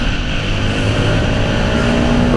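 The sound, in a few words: Yamaha XSR 125 motorcycle engine accelerating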